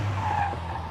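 Tyres of the MGB GT Sebring squeal in a brief, loud skid as it climbs the Prescott hill, over the drone of its engine.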